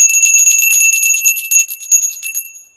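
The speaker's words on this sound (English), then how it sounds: "Thank you again for my bell." A small handheld bell rings loudly and close, a bright shimmering jingle that rattles continuously and then fades out over a few seconds.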